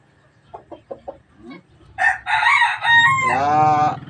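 A mestizo rooster crows loudly and close, preceded by a few short clucks, with a long cock-a-doodle-doo cry filling the second half.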